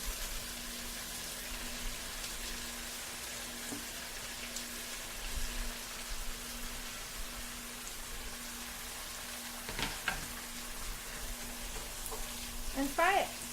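Fresh coriander and mint leaves fry in a pot for chicken biryani, making a long, even, close hiss of sizzling oil with a faint low hum and occasional light clicks of stirring.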